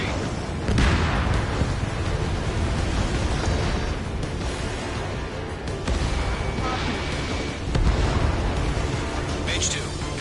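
Destroyed vehicle explodes in the Ace Combat 7 video game, heavy booms and crashing blasts layered over constant engine roar, with radio voices talking throughout.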